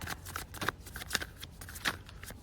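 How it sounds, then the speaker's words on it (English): Crisp riffling and snapping of a card deck being shuffled, close up, in quick irregular bursts with no talking. "I'm going to do one more shuffle."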